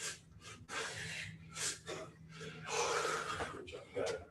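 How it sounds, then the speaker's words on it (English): An athlete catches his breath during TR3NCH gym training with loud, heavy, rasping breaths in uneven bursts, close to the mic, and a coach's voice is briefly heard between them. "Don't know if you could probably hear his breathing or his respiratory rate."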